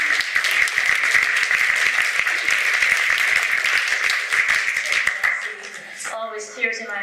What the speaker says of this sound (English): big applause to Nancy for being a great actress